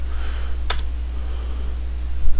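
Someone types a query into the Google search bar on a computer keyboard, giving soft, close keystrokes with one sharper click standing out, over a steady low hum.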